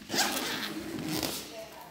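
A zipper on a school lunch bag is pulled open in two quick rasping strokes, close and clear, with a child's backpack setting and soft speech nearby.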